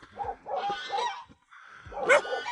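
Dogs barking in a remote Derung village in the snowy mountains of Yunnan, a series of sharp barks and yips in quick bursts, fairly close, with a higher whimpering call near the end, no talking.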